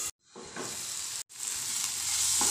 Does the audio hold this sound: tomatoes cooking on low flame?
yes